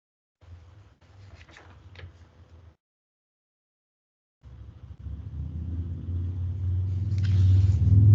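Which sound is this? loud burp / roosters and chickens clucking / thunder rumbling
thunder rumbling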